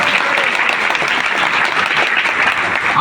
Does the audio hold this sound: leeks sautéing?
no